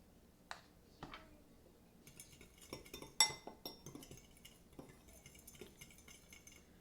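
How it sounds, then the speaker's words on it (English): A fork clinks and scrapes against a bowl while BBQ rib rub spices are mixed, with light irregular metallic ticks and taps, faint and close, growing busier midway. "You like my fancy mixing item called a fork"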